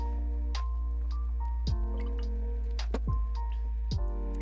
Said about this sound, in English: take a quick little sip of some water or something to coat our throat here